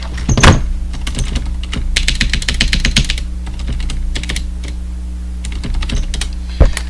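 A computer keyboard clatters with rapid, uneven bursts of close key presses, loud and dry over a steady low hum, with a heavier thunk at the start and end.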